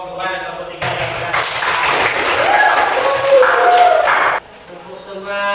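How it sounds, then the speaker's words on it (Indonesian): A high-school maths class gives a round of applause for two student groups, a steady wash of clapping lasting a few seconds under chatter, then stopping abruptly. "kita kasih tepuk tangan dulu untuk kelompok 2 dan kelompok 3 yang sudah"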